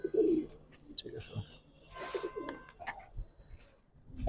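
Male Giribaz pigeon in a loft cooing in short throaty bursts, close and clear, with a person talking intermittently alongside.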